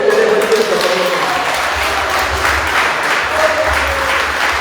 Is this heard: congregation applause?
yes